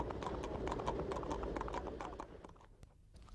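Horses trotting on a road during illegal Sunday-morning sulky racing, a steady rapid clip-clop of hooves that stays close and fairly loud, easing slightly toward the end.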